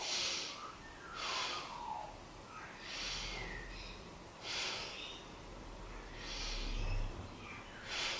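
Slow, airy breaths during a yoga pose, several soft inhales and exhales in a steady rhythm, close but faint over a low background hum.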